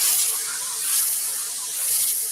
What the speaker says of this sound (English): I'm just simply going to steam and shoot that steam through my shirt.